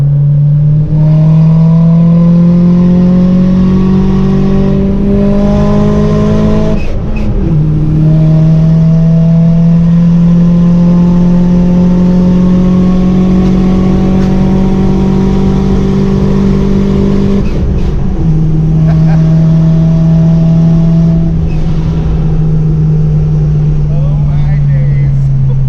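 Turbocharged Mk2 Golf engine with its supercharger switched off, revving loudly and steadily in long rising and falling sweeps, with brief dips around the seventh and eighteenth seconds as revs drop and climb again; voices talk over it.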